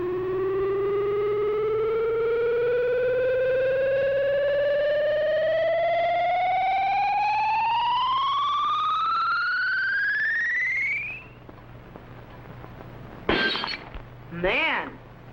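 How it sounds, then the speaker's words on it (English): A rising electronic ultrasonic ray effect from an old science-fiction show climbs steadily in pitch for about ten seconds, then a glass jug shatters with sharp crashes and tinkling. "whatever the beam hits will be instantly shattered by the ultrasonic sound wave vibrations"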